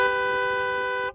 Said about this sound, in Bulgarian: клаксона